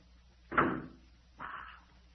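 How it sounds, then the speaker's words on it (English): A door sound effect from a vintage horror radio drama shuts with a solid thud, followed moments later by a softer scraping or latching sound, both close by in a quiet room. "Wait till I close this door."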